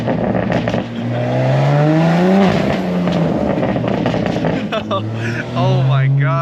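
A heavily modified BMW M4 G82 Competition with its S58 engine revs hard in repeated throttle blips, pitch climbing and falling close by, while people talk over it.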